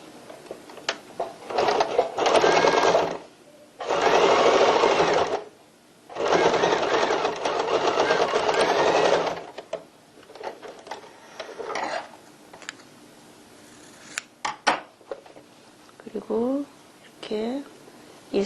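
A sewing machine stitches bias binding along both sides of a tote bag in several loud, steady bursts separated by pauses, with someone speaking softly between runs and small handling clicks near the end.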